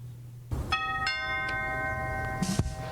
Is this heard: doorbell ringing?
yes